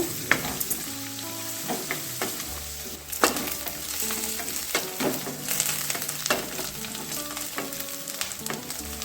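Chopped curry leaves and onion fry in oil in a pan, a steady, close sizzle broken by frequent scraping stirs, with no voices.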